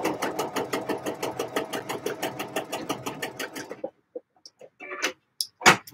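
A sewing machine stitches a garment lining in a rapid, even run of mechanical ticks for about four seconds, then stops, leaving a few scattered faint clicks and handling noises.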